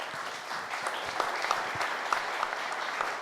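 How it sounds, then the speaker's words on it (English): Audience at an SME Week business event applauding, a continuous round of many hands clapping at moderate distance, steady and unbroken. "And a round of applause"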